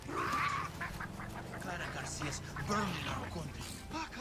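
Chicharron, the chicken in the Far Cry 6 video game, clucks in short squawking bursts, mixed in under steady overlapping conversation.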